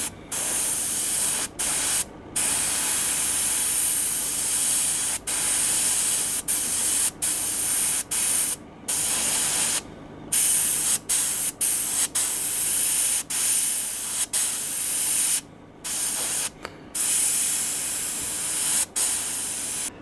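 An airbrush sprays paint onto a fishing lure in a steady, close hiss, broken by many short stops and sputters as the trigger is released and pressed again.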